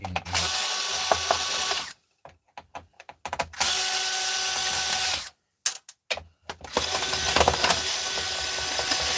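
A power drill drives screws on an old computer monitor being stripped for scrap metal, in short loud whirring bursts separated by brief pauses, close up with no talking.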